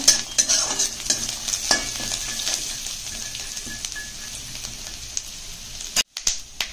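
Peanuts and onion are stir-fried in a pan while a spoon scrapes and clicks against the metal over a continuous close sizzle. Sharp stirring knocks come early, then the frying fades to a softer hiss.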